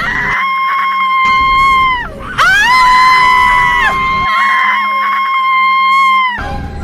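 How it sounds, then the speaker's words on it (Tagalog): Long, loud, high-pitched screams ring out, several sustained cries in a row with brief breaks between them. "sumigaw siya ng malakas"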